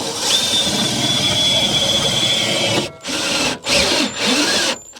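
Power drill driving a self-tapping screw into the underside of an RV while fitting underbody protection panels, a loud continuous whirring run that then breaks into several short bursts with brief pauses between.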